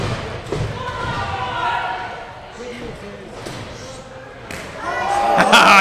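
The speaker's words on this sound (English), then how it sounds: "The sickening thud from this sickening man." A wrestler's face slammed into a bucket at a live wrestling event, a dull thud amid commentary and crowd noise, followed by a louder burst near the end.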